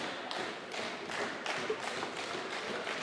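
Central York fans clap in a rhythmic, evenly spaced beat at a high school volleyball match. The steady pulses sound moderately distant and fill the gym with a soft, regular pattern.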